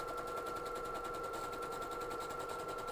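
A sewing machine runs steadily on an overcast stitch over ribbed knit fabric, giving a fast, even mechanical rattle that holds at a low, constant level.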